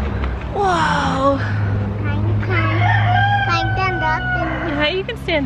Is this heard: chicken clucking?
yes